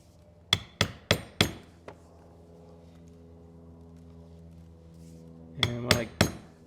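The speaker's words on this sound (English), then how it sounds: "I'll work my way around the curve using the 2-tine chisel." A mallet strikes a 2-tine stitching chisel punching holes into a leather belt: four crisp, evenly spaced knocks, a faint tap, a quiet pause, then three more close, clear strikes.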